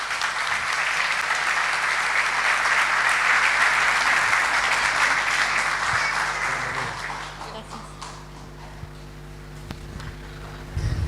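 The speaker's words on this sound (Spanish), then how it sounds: "Aquí, un aplauso para la hermana." A church congregation applauds steadily for several seconds, a dense, fairly loud wash of clapping that thins and fades toward the end, leaving a low hum and scattered sounds.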